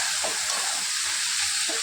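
Fish heads and fish roe frying in hot oil in a Bengali-style cooking pan, giving a steady close hiss of sizzling with faint stirring bumps underneath, no voices.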